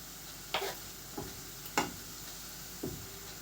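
Chicken meat laid over onion and carrot in a pan gives faint sizzling with four distinct stirring or placing clatters spaced about a second apart; close and quiet, no talking.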